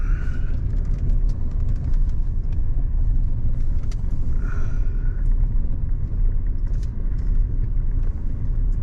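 A car rolling along a slightly wet road gives a loud, steady low rumble of tires and engine, heard from inside the vehicle, with faint higher clicks on top and no voices.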